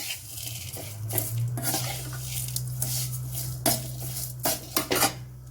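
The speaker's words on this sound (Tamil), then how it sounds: "நெய் நல்லா சூடாயிட்டு சேமியாவை சேர்த்துக்கலாம் சேமியாவை நல்லா வறுத்துக்கலாம்" Metal utensil scrapes and clinks against a pan in quick, irregular strokes over a steady low hum as vermicelli is stirred and roasted in ghee.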